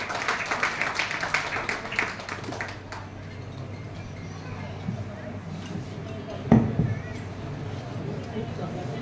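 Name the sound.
audience applause welcoming speaker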